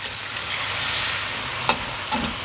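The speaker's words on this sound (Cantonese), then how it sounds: "老抽俾少少顏色佢，再炒下佢先" Soy sauce and oyster sauce sizzle steadily in a hot pan while being stir-fried, a dense close hiss broken by a couple of sharp scrapes of the utensil against the pan.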